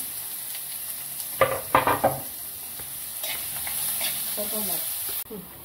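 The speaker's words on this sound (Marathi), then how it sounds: "त्यानंतर आपण कांदा परतून घेऊ" Onion sautéing in a pan gives a steady soft sizzle under a few sharp utensil scrapes and clacks against the pan, with a brief voice near the end.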